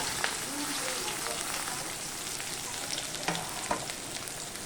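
Two chopped onions sizzle steadily in hot oil in a pan, a continuous crackling hiss with a few sharper pops, and a voice murmurs faintly underneath.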